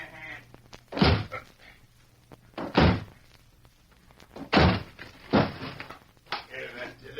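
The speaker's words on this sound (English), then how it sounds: "All right, then we'll smash the door." Heavy blows smash at a door in a radio drama sound effect, several loud slamming thuds spaced a second or two apart, with quieter knocks and shuffling between them.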